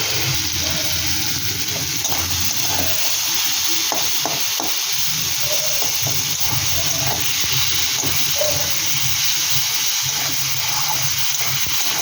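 Fish curry masala for katla macher jhol sizzles and fries steadily in a pan, with occasional scraping stir strokes. The sound is continuous, close and fairly loud, and no one speaks.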